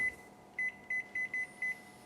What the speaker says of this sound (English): oh, I'm having trouble with the buttons today, 7